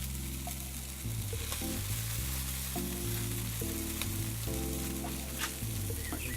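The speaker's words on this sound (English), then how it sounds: "Just going to put them directly over the coals so they can crisp up that bacon" Bacon-wrapped pork balls crisping directly over barbecue coals, a constant close crackling sizzle with scattered pops, heard under steady background music.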